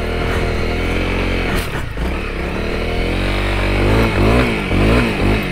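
A Honda CRF250L dirt bike spins its rear wheel on a soft woodland trail, its engine roaring loud and steady and climbing in pitch as the revs rise, close up with no talking.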